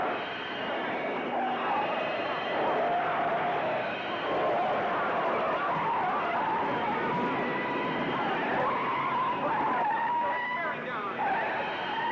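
A race car at Daytona skids out of control, its tires screeching in a long, sustained wail over engine roar while an announcer talks throughout.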